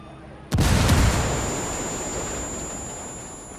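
A frag grenade explodes in the tactical shooter Ghost Recon Wildlands: one sudden, loud blast with a deep boom, then a long rumbling decay that fades slowly over a few seconds, with no talk over it.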